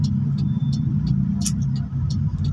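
Cars pass in slow market traffic in San Carlos, Pangasinan, a steady low engine rumble heard from close by with a few faint higher clicks and bursts of noise, and no voices.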